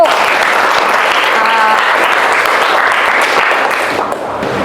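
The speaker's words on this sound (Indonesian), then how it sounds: "Iya, berikan dulu aplaus untuk" Students in a classroom applaud together in steady, dense clapping that runs for several seconds and eases slightly near the end.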